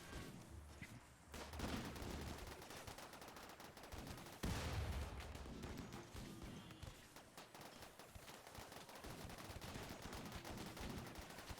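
Mech blasters fire during a battle in the video game RimWorld, a dense, continuous barrage of rapid shots and bursts layered over one another, steady and fairly loud throughout with no speech.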